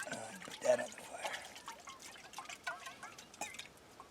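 Cup of water poured onto a campfire at a bushcraft camp, giving faint dribbling, trickling and hissing bursts against quiet outdoor background, with a voice heard briefly near the start.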